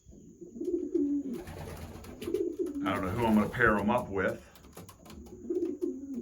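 Racing pigeons coo in a loft, soft low rhythmic warbles repeating throughout while someone talks over them nearby.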